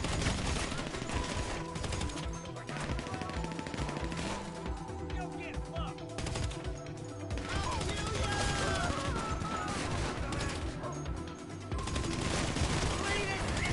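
Rapid gunfire in GTA Online, aimed at a gate, loud dense bursts of shots that continue through the whole stretch, with quieter gaps and brief pauses between volleys.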